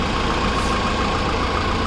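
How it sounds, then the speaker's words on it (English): A 2014 Mahindra Thar CRDe 4x4 diesel hardtop with 42,000 km idles steadily, its engine giving a continuous, even rumble with a slight knocking texture and no pauses. "So right now I'll be starting the vehicle and showing you the sound of the engine."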